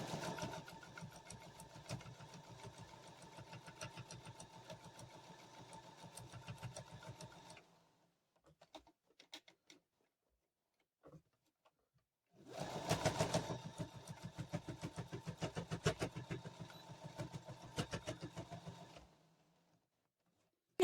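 A sewing machine stitching quilt binding on a snowman quilt runs in a steady rapid whir, stops for several seconds of near silence with a few faint handling sounds, then starts up again and runs before stopping.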